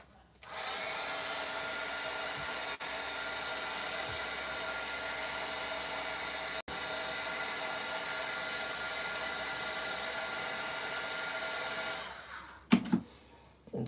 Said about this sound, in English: what I'm gonna do is I'm gonna dry it off a little bit with my embossing tool